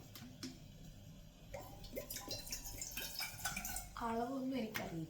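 Water poured into a pot on a stove for making tea, a faint trickling and splashing with drips, rising toward the end, under soft talk.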